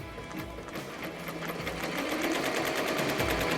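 An embroidery machine stitches a steering wheel cover with a steady, rapid mechanical chatter and rhythmic needle ticks that run continuously and fairly loud throughout.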